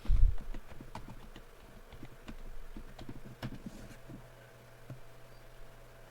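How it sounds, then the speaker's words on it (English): Light typing on a computer keyboard, a loose scatter of soft clicky keystrokes at irregular intervals, quiet and close, with a brief louder bump at the start and a low steady hum beneath. "Let's type in Black Friday."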